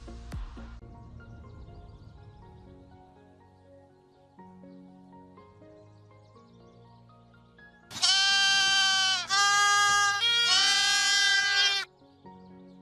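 A sheep bleats loudly in two or three long, wavering calls close to the microphone, following a quieter stretch of soft background tones.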